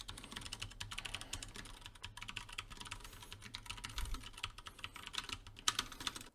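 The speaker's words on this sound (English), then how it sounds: "Test number 3 on the T732 is going to be a keyboard noise test" Rapid keyboard typing clatters steadily at close range, a continuous patter of keystrokes with a few louder taps near the end.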